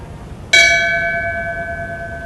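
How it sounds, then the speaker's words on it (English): A single memorial tribute bell is struck once at a police memorial ceremony, its clear tone ringing out and fading slowly. "Would you please ring the bell in tribute and in memory for Dick Luciati?"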